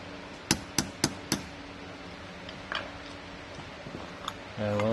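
Four quick metallic taps from a small hammer on a Honda N600 carburetor part ring out in a row, then a few lighter knocks, followed by a brief low sound at the end.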